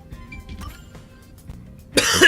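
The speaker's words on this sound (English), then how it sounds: "That coughing must be really loud" Loud coughing bursts in at the end after a stretch of faint background music, a harsh, broadband hack that fills the final half second.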